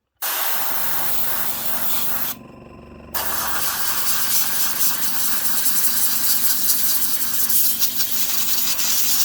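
Airbrush blowing air over paint on a model locomotive tender to dry it, a steady close hiss that cuts out briefly and then resumes, continuous and fairly loud.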